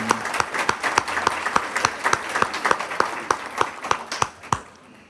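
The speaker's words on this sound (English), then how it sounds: "We really wanted to give William Thomas a big applause for this music." Audience applause at a college service awards ceremony, a dense, loud burst of many hands clapping with a few sharp individual claps standing out as it thins toward the end.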